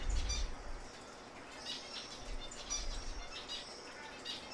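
Conures call from stands at a bird expo: faint, scattered chirps and squawks over a low hall murmur, several brief calls spread through the few seconds at a moderate distance.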